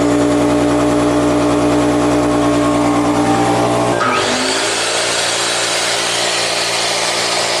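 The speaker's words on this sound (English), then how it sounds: "Turn this compressor on and make sure it's going to work." An air compressor powered from a budget Eco-Worthy solar setup hums loudly and steadily with a strong motor drone, then its pitch shifts abruptly into a harsher, higher running roar.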